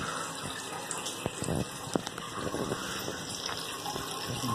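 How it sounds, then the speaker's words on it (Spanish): Water poured by hand, a continuous splashing gush with small knocks and shifting flow, moderately quiet and steady throughout, with no voices. "Vamos a echar un poco agua, voy a echar un poco agua de fe."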